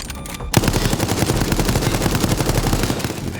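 Rapid automatic gunfire from the video game Resident Evil Resistance rattles in a loud, dense, continuous burst after a brief quieter lead-in, sustaining a fast even rhythm of shots with no speech.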